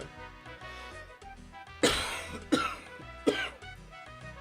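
Three harsh, chesty coughs from a sick person, close and loud, spaced about a second apart over soft background music.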